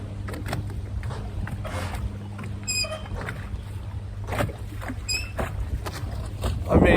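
Boats rocking on rough, wind-whipped lake water at Atwood, with a steady low engine hum, water sloshing and slapping against hulls, and occasional creaks and rattles throughout.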